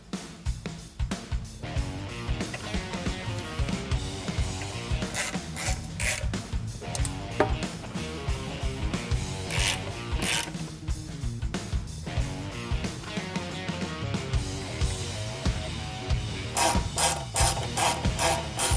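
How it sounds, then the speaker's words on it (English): Torx T40 driver removing the fender support screws on a Harley-Davidson Softail: close, repeated metallic ratcheting clicks and scraping turns in an irregular rhythm, fairly loud and with no talk. "The T40 is what we're gonna use to take out the fender support screws here."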